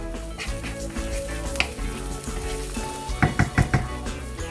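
A clove of garlic fries in a pan, sizzling steadily up close, with a few clinks and scrapes of a utensil against the pan near the end.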